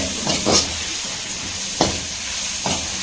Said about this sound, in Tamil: ஆனியன் இன்னும் கொஞ்சம் நேரம் வந்து பார்த்தீங்கன்னா வதங்கணும்